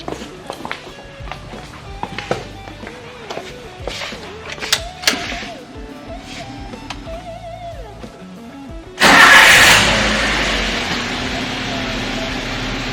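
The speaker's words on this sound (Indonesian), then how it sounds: "Kemudian kendaraan saya nyalakan kembali." After a throttle position sensor repair on a car's engine management system, the engine is started again with a sudden loud burst that settles into a steady running hum, following earlier voices and clattering workshop noises.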